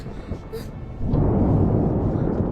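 A deep, sustained rumble of thunder during a storm swells from about one second and rolls on loudly to the end, with softer broadband noise before it.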